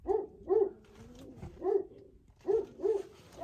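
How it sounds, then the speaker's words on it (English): A pet dog barks repeatedly from across the room, sharp barks in uneven bursts of one or two, moderately loud, with a brief pause in the middle and no talking over them. "Sorry, my dog's going ape shit. There she is over there barking."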